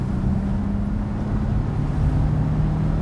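A Porsche Boxster T engine accelerating at about one-third throttle, giving a steady, close, continuous drone with a low rising engine note and no talk over it.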